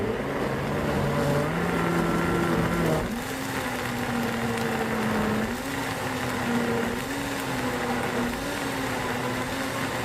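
A blender grinds soaked kelp water with ingredients for young-radish kimchi, loudly and steadily, its motor pitch dropping and shifting as the contents break down, with no talking.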